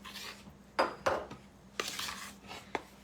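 Wet ingredients are stirred into dry ones in a bowl for a pop tart dough, with a few sharp utensil knocks against the bowl and soft scraping and stirring sounds between them, close and quiet with no talk.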